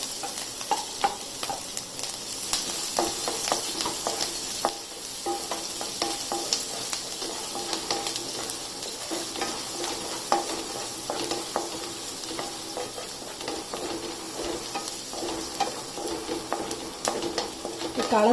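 Garlic, ginger and green chili frying in hot oil, a continuous bright sizzle with scattered scraping taps of a spatula stirring the pan, close up, with a brief voice near the end.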